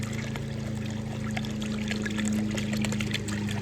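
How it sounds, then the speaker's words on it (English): A garden fountain's nozzle spout trickles and splashes water steadily at close range, a continuous bubbling wash with a low pump hum beneath it. "The top here we have a nozzle spout that shoots the water out"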